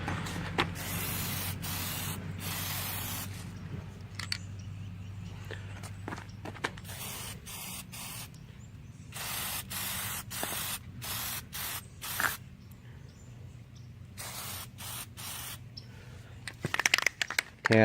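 A spray can lays paint coats on an object in repeated hissing bursts of one to two seconds separated by pauses, close and fairly loud, with faint handling noises between sprays.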